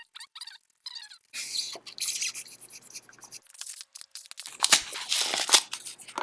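An X-Acto knife stab-cuts through foam along a score line, giving repeated close crunching, tearing cuts in irregular bursts that grow louder toward the end.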